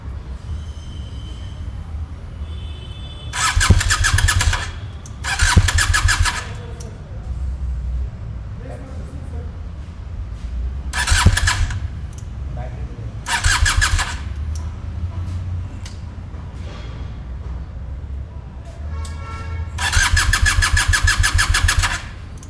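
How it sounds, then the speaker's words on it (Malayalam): A QJ Motors SRK 400 two-cylinder motorcycle engine and exhaust rev in several loud, separate bursts over a steady idle, with a person talking in between. "QJ മോട്ടോഴ്സിൻ്റെ ഒരു കിടലൻ സാധനമാണ്, 2 സിലിണ്ടറിലുള്ള പെട്ട സാധനം, അന്യ സൗണ്ടുള്ള സാധനം. എക്സോസ്റ്റ് നോട്ട് കേൾപ്പിച്ചു തരാം."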